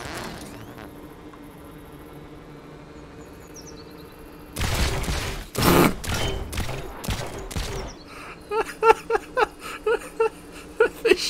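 A fully automatic gatling cannon fires projectiles in the Trailmakers video game, loosing a burst of loud, booming shots followed by quicker, sharper pops against a quiet background hum.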